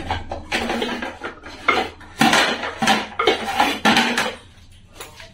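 Plates are clattered and steel cutlery scrapes as a breakfast of aloo dum and pulao is served onto plates, one of them steel. Close, bright metallic knocks and scrapes come in quick bursts, with no talk.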